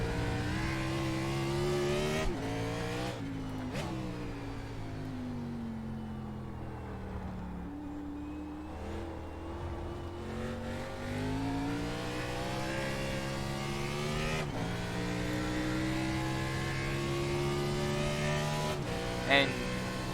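A NASCAR Cup car's engine in iRacing on the Daytona road course, a steady loud drone with rising and falling pitch as the car accelerates, holds a bit on the throttle and accelerates again, running continuously throughout.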